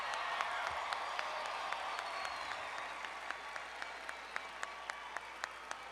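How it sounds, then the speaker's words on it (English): Audience applause for the graduating class at a high school graduation ceremony, a broad steady wash of many hands clapping at a distance, with occasional distinct claps popping out near the end. "let's give another round of applause to the class of 2026"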